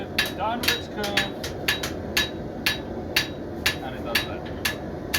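Steel hammer blows ring out on round bar stock at an anvil while a knife is forged, about a dozen sharp, evenly spaced strikes at roughly two per second, close and loud, with a voice speaking briefly between them.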